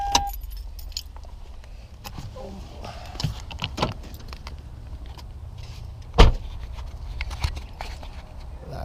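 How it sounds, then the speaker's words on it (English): Keys jangle close by in short, intermittent shakes and rattles, with faint outdoor street ambience and a brief louder knock partway through. "Gotta get my keys first."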